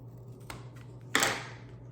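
Scissors snip through a pickleball paddle overgrip in one short, close cut with a faint earlier tick, over a steady low hum.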